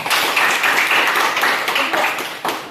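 A classroom of students clapping in applause, a dense burst of many hands that is loud and close and trails off after a couple of seconds.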